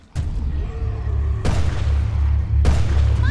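Three heavy gunshots boom in the video game Resident Evil Revelations 2, each loud, deep blast ringing out in a long rumbling tail before the next, spaced a little over a second apart.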